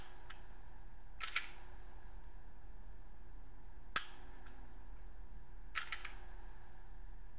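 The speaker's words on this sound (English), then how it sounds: "Rotate the takedown lever, release the slide, and perform a functional test." Three sharp, quiet metallic clicks, spaced a few seconds apart, come from an S&W Shield 9mm pistol as its slide is released during takedown and reassembly, against near silence.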